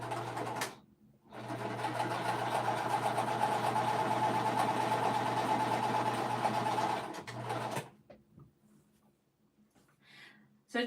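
An unfamiliar sewing machine stitches in a steady, fast mechanical whir for about six seconds, then stops, with quiet room sounds after.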